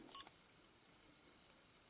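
A Moreximi kids SLR toy camera gives a short electronic self-timer beep, followed by a fainter second beep after a quiet gap of over a second.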